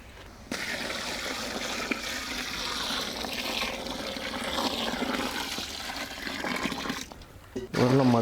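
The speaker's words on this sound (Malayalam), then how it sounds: "വെള്ളം ഒഴിച്ച് കൊടുക്കാം നമുക്ക്." Water is poured into a large pan of quail egg gravy seasoned with curry leaves, chilli and coriander powder, in a village cooking setting. A steady close gushing pour lasts several seconds, then breaks off into a short different sound.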